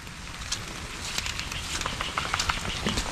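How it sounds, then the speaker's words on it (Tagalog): Heavy rain pours steadily beside a riverbank on a farm during a typhoon, a dense continuous patter with scattered sharper drops close by, no voices. "Lakas-lakas din po yung ulan na yun."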